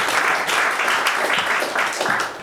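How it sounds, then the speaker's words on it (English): A theatre audience at a live comedy show applauds in a dense, continuous wave of clapping from a large crowd, steady and fairly loud throughout. "Round of applause for Phil Hartman right there"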